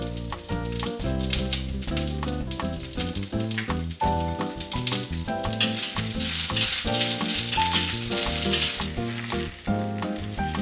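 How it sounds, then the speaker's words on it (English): Cabbage frying in a pan with salt and pepper, a steady sizzle running under loud, continuous background music that largely dominates. "Cook the cabbage,"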